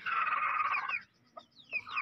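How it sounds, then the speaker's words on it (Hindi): A rooster and hens in a Pakistani village coop give a drawn-out clucking call followed by shorter clucks after a pause, nearby and fairly quiet. "मुर्गा तो कहता है मुझे बाहर निकालो"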